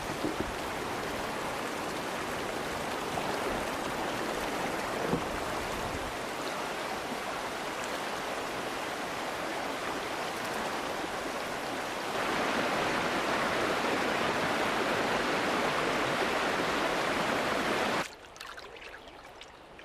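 Rapids on a river rush in a steady, loud roar during a canoe journey, a dense wash of churning water that swells louder partway through and then drops away abruptly near the end.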